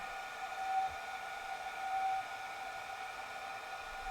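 A newly designed forge on its first real firing gives off a steady, even roar with a faint whistling tone, holding constant from start to finish with no voices.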